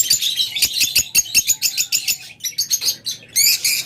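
Lovebirds at a breeding farm chirp in rapid, overlapping bursts of sharp, high tweets with brief wing flutters, loud and close.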